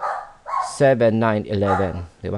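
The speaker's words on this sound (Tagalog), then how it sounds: "may mga asong tumatahol" Dogs bark several times in quick succession nearby, their yaps overlapping someone talking in Filipino.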